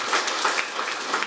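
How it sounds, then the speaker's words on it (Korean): Applause from the audience at a public hearing on mental health policy, welcoming a speaker. A short burst of many hands clapping, dense and steady at moderate loudness, with no speech. "큰 박수로 모시겠습니다"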